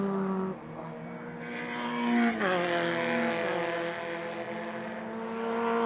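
A Formula Ford 1600 race car laps Knockhill circuit, its engine note rising and sweeping in pitch as it passes, steady and fairly loud against a distant background.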